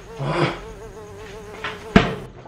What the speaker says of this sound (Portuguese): Cadê esse mosquito?